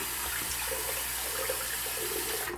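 Water runs from a tap into a shaving bowl in a steady, close, rushing stream that keeps going without a break and cuts off at the very end, with no voices.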